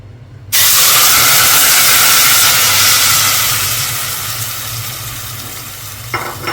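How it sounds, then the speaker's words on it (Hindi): Fresh coriander dropped into hot ghee in a pan for mutton bhuna gosht gives a sudden loud, steady sizzle that fades slowly over several seconds, with a faint clink near the end. "मैंने थोड़ा सा ये सब्ज़ धनिया डाल के देखा कि घी गर्म हो गया कि नहीं"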